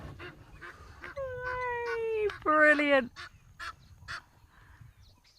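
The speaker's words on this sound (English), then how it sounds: "Oh no, bird fight." Birds squabble over territory out on safari, with harsh honking calls and rising squawks in a short burst over outdoor background noise, as a voice comments briefly.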